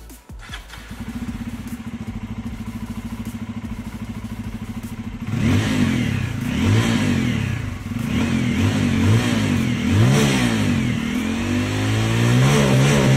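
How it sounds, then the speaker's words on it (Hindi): A 2023 Bajaj Pulsar F250 motorcycle idles steadily, then its exhaust note rises and falls in repeated loud revs, heard from a short distance with no talking. "अब दूर से सुनो इसका एग्जॉस्ट नोट।"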